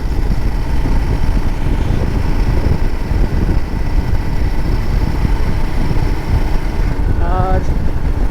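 A Royal Enfield Himalayan 450 motorcycle ridden at night, with a steady, close engine drone and road rumble running unbroken throughout, and a brief chirping tone near the end.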